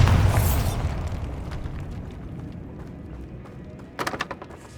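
A Bombarda spell explodes inside a tomb in the Hogwarts Legacy video game: a loud, booming blast opens and decays into a long rumbling tail, followed near the end by a short cluster of crackling pops.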